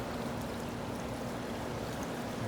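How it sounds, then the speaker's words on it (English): A garden pond waterfall runs in a steady, even rush of splashing water that holds at a constant level throughout, with no voices over it. "And the waterfall going there."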